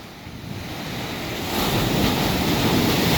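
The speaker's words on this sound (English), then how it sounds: "So right down below me The waves are all crashing." Ocean waves crash steadily below a waterfall lookout, a broad roaring wash that swells louder partway through with wind buffeting the microphone.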